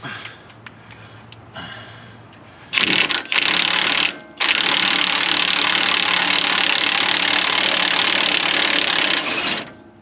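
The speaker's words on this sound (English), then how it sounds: "This little teeny adjustable wrench should do it." A small adjustable wrench works at a stuck part on an old junkyard Ford, making quiet scrapes and clicks before harsh, loud bursts of grinding, ratcheting metal noise that cut off briefly and then run steadily for several seconds.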